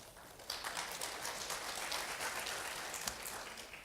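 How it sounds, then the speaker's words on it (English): Quiet, distant applause for presenters at a simulated audit committee session, a soft, even patter of many hands clapping with a couple of sharper claps standing out. "So please give them a round of applause."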